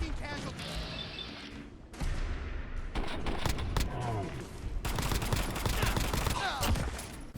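A modded pistol fires in Fallout 4, sharp gunshots in quick bursts punctuated by a pause, loud and close, mixed with mechanical clicks of handling and reloading.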